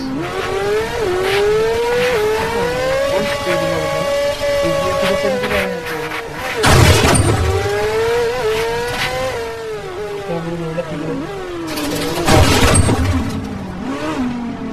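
A car in a driving game revs and pulls away, its engine pitch rising and falling through repeated accelerations with a couple of harsh bursts, while a person talks over it.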